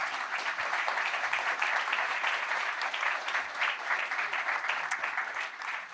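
Audience applause closing a roundtable on technological and environmental disruption in the deep seabed, a full, continuous clapping from many hands held at an even level throughout.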